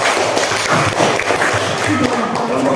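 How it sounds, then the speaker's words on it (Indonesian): A classroom claps for group 2 after its presentation during a teaching performance exam. The applause is dense and steady, close and fairly loud, with voices talking over it. "Oke, tepuk tangan dulu untuk kelompok"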